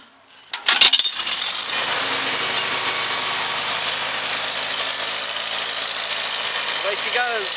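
A 1948 Farmall Cub tractor's engine catches after a hand crank start, with a brief clatter followed by a steady, loud putting idle that continues to the end.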